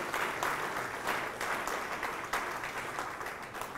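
Steady audience applause at a professor's introduction during an annual academic symposium, dense crowd clapping sustained at an even level throughout.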